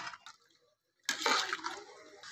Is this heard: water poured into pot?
yes